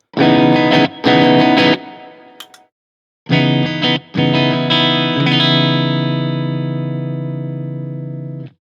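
An electric guitar through an overdrive pedal plays a few short chopped chords, pauses, then strikes a long distorted chord that rings out and slowly fades.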